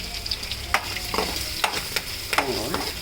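Asafoetida frying in hot oil for mango pulihora, a soft steady sizzle broken by a few scrapes and light clinks of a spoon stirring the pan, close by with no talking.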